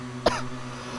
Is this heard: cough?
yes